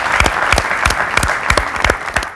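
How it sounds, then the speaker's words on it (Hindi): An audience at an interview event honoring a ghazal singer claps in a short burst of clear, evenly spaced beats, about three per second, close and fairly loud. "एक ज़ोरदार तालियां"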